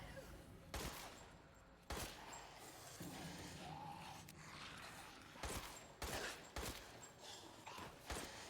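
Gunfire in Resident Evil 8 pops out as a series of distinct shots spaced irregularly over a busy game soundscape, several in quick succession toward the end.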